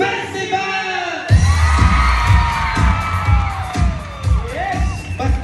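A festival crowd shouts, whoops and cheers together in a loud, close burst that keeps swelling with high yells and children's voices.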